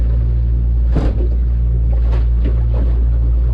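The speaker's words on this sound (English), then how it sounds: "It's the lapping sound of water on an aluminum hull." Soft, irregular lapping of water against an aluminum boat hull, with a steady low hum and breezy noise beneath and a few sharper slaps.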